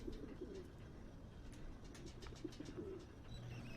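Pigeons cooing in the video game Whateverland, soft repeated low coos in short bursts over a faint ambient background, with no voices.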